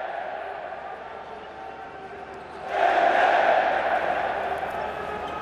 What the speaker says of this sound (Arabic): جمهور تشجيع متواصل